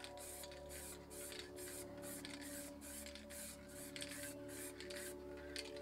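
An MTN 94 spray paint can sprays white in a quick series of short, evenly spaced hisses, about a dozen light bursts close to the mic over a low background hum.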